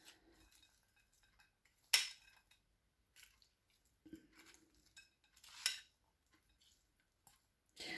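Spoon stirring a New Year salad in a bowl, with soft scraping and squishy clinks in short sporadic bursts, a few sharper utensil knocks standing out, close and fairly quiet with no talking.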